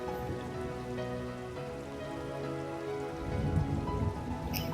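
Rain falls in a Tamil cartoon story, a steady patter of drops on surfaces with a faint musical tone in the background, no speech.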